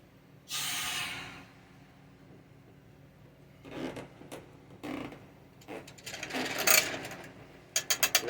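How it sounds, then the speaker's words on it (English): Compressed air from a hose blows out an outboard motor's propeller shaft during a broken-pin prop repair, giving a short, loud hiss followed by quieter clicks and handling noises. "Air hose to kind of clean it off."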